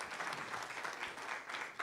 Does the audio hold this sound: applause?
yes